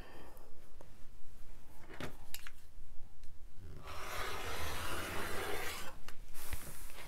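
A rotary-style cut through a fabric strip guided along a straight ruler while sewing bias striped binding: a soft rasping, grinding scrape swells for a couple of seconds in a quiet room, framed by a few light handling taps.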